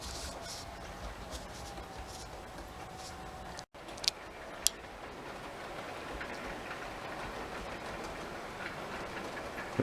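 A model train runs along layout track past a crossover and points, giving a steady close rolling rumble and rattle with a couple of sharp clicks partway through.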